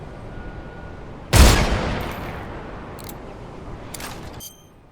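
A sniper rifle shot aimed at a lit tower in Metal Gear Solid Delta: one sharp, loud blast with a long echoing tail, followed by a couple of faint mechanical clicks.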